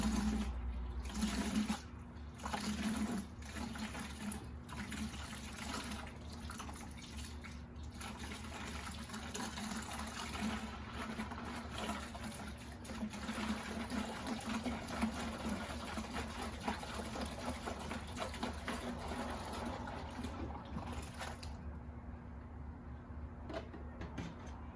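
Water runs steadily from a hose or tap into a bucket for a car wash, a continuous close splashing fill that carries on for the whole stretch without talk.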